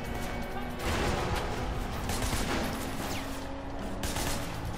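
Sustained gang gunfire in the video game Sleeping Dogs, with dense overlapping shots and bursts forming a loud, continuous barrage over several seconds.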